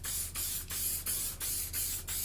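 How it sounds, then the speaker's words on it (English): Mold release spray from an aerosol can sprayed onto a pattern for an epoxy ukulele body, a steady hiss in about six short back-to-back bursts, close and loud. "I've got some mold release spray"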